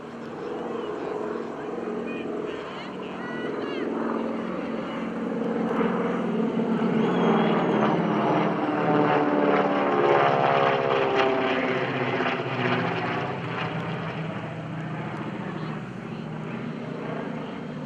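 A T-6 Texan propeller aircraft engine drones steadily at a distance at an airshow, swelling louder in the middle, with a throaty rumble and pulsing overtones.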